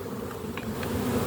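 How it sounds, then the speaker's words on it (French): Dense, loud buzzing of many honey bees swarming close by at a hive, a continuous droning hum with no voices. "Regarde-moi les abeilles qu'il y a."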